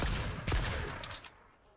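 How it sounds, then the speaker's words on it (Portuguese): Gunfire in Fortnite, a loud burst of rapid game shots that fades out over under two seconds, with no talking. "Quem que tá atirando no meu bicho, velho?"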